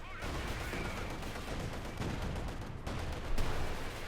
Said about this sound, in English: Great hit from the Panther. And great hit from the T-35. Field gun as well. Machine gun, machine gun as predicted.